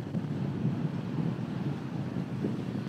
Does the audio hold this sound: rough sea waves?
yes